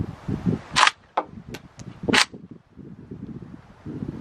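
A PSA AK-47 rifle fires at an outdoor range, with a few sharp cracks spread unevenly over a few seconds, two of them loud and close, over a low rumbling background.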